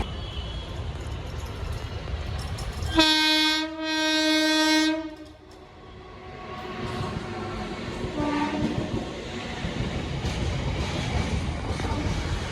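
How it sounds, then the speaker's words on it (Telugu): A loud two-second train horn blast, then the low rumble and clatter of a long goods train rolling past nearby. "మన గూడ్స్ ట్రైన్ పోతున్నావు"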